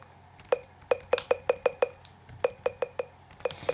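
Mac OS X Yosemite system alert sound, a series of short, sharp, tonal pops repeated in two quick bursts of about six, clear and close over faint background hiss.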